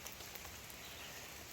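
Rain falling in a mountain garden, a soft, even patter of drops on surfaces, faint and continuous with no voices.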